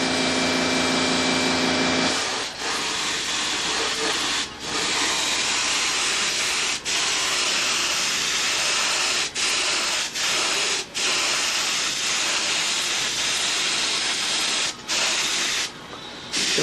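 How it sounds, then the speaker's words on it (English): A spray gun hisses steadily while spraying paint on a Strega 18 model plane, a loud continuous close-up blast broken by a few brief pauses and taps. "Again, I'm not spraying the whole plane, just the areas where we have ink."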